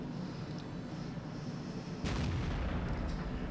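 A Jagdtiger tank destroyer's main gun fires once in a video game, a sudden loud broadband blast about two seconds in that rolls on over a steady battle-ambience background.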